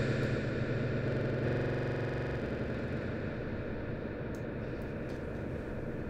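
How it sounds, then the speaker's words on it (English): A dense, washy wall of smeared, echoing tone from the Airwindows MV2 reverb plugin, built from a stack of allpass filters, fills the whole stretch, a steady metallic drone with a brief brighter swell near the start. "it's like a reverb, but it's not normal because all it is a giant stack of allpass filters"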